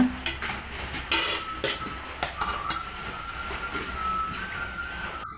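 Onions frying in coconut oil with ginger garlic paste for a Kundapura-style chicken curry, stirred with a ladle: a soft continuous sizzle with scattered scraping clicks near the start.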